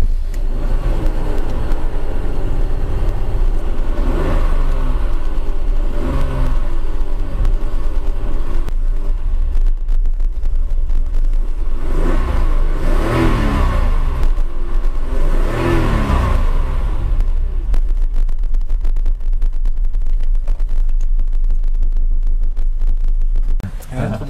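A Jaguar XJ40 engine runs steadily at idle with several rising revs swelling and falling back, loud and close, a continuous mechanical drone throughout.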